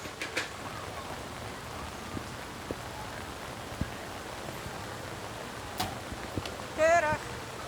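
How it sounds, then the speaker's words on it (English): Steady rain pours down at an outdoor archery World Cup compound final in Medellin, a constant even hiss of falling water with occasional faint clicks and thumps, and a brief tonal sound near the end. "And a steady rain now pouring down"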